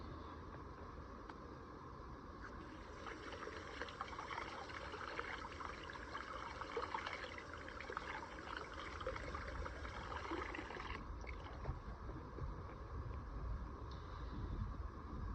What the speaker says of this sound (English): I'm going to just rinse this off, and we'll see what it's looking like